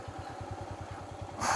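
A motorcycle engine in a traffic jam near the India–Bhutan border, a quiet, rhythmic low putter at an even pulse, followed by a brief burst of brighter noise at the end.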